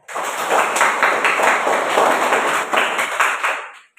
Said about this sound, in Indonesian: Beri aplaus dulu untuk Nila